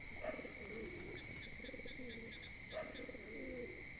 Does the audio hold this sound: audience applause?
no